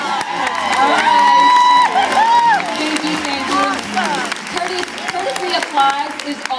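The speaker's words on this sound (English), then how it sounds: "Applause is always appreciated at my show" A live studio audience at a host's cooking show's spring launch cheers and claps loudly, with whoops, shouts and a few whistles rising over a dense crowd roar and mixed voices throughout.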